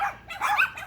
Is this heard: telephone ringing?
no